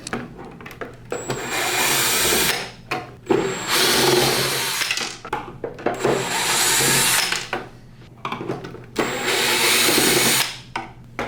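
A power drill runs in several long bursts while backing screws out of a Prolux CTX vacuum, each whine lasting a second or two with short pauses between, close and fairly loud.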